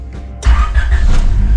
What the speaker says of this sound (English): you press the button and then car starts right up